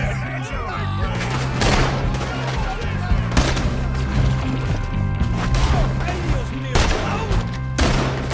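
Sharp, loud gunshots crack repeatedly in a Red Dead Redemption 2 cutscene shootout, spaced in irregular volleys over a dense background of battle noise and shouting voices.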